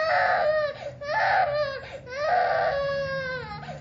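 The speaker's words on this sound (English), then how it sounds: "It was perhaps 2 o'clock when I heard a child crying." A young child cries in rhythmic wailing bursts, three or four sobbing cries with short breaths between them, close and fairly loud.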